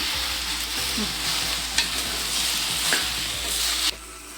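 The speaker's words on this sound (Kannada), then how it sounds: "ಇದು ಹುರಿತಾಯಿರಲಿ." Okra (bendekai) sizzles steadily as it fries in a pan, with a few sharp scrapes and clatters from stirring cutting through the constant crackle, close and fairly loud.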